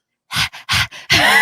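A person imitates a loud police dog with a quick series of four breathy, panting huffs, then a longer, rougher wheezing bark.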